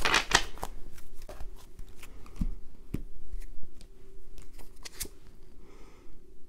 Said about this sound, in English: let me just shuffle this one more time for you guys